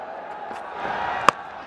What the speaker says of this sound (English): Crowd building as we progress into the afternoon.